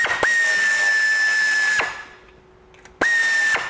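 Power tool spinning out a starter motor bolt on a 1979 Citroen CX: a loud, steady high whine for about a second and a half, a short pause, then the tool kicks in again, close and alone.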